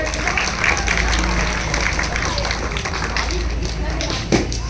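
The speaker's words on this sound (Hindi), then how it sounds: "अब सब बच्चे उप प्रधान जी के लिए जोर से ताली बजाएंगे" Schoolchildren clap loudly for the deputy head at a Republic Day celebration in a Haridwar primary school, a dense continuous crowd of clapping with voices mixed in.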